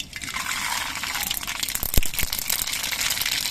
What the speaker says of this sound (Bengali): এই তেলের মধ্যে দিয়ে দিচ্ছি অল্প করে কালো সর্ষে